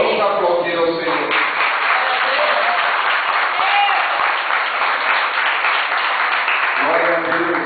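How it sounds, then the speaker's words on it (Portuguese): A church congregation applauds in a dense, steady wash of clapping that fills the whole stretch, with voices and cheers mixed in near the start and end. "Vamos aplaudir ao Senhor."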